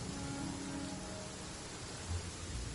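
Rain falling in the Dragon Spine area of the video game Genshin Impact, a steady broadband hiss of dense rainfall throughout, with a faint low rumble near the end and no speech.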